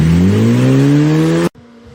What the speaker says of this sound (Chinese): 这就是咱们华夏人自己造的发动机